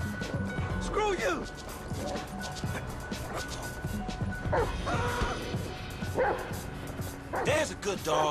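The dog Chop barks in Grand Theft Auto V, several short barks scattered through dense game noise with crashes and a busy background, no clear speech over it.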